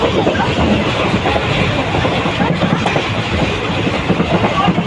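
A superfast express train runs at speed between Dindigul and Madurai, making a loud, continuous rumble and rattle with rapid clickety-clack of wheels over rail joints, heard from inside the coach.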